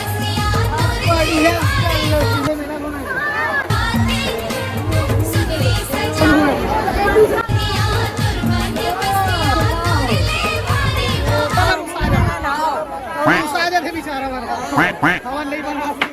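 Dense crowd hubbub at a village fair, many voices chattering and children shouting over loud music, steady and close throughout with occasional cheers.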